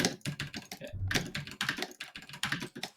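Computer keyboard pounded hard during typing, a dense run of sharp clattering keystrokes with heavy, uneven thumps, close and loud throughout.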